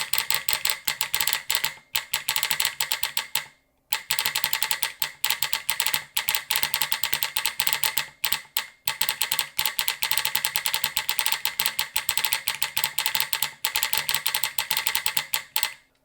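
A keyboard solenoid fires in rapid, loud mechanical clicks, a dense ratcheting clatter close to the microphone that runs in long bursts broken by brief pauses.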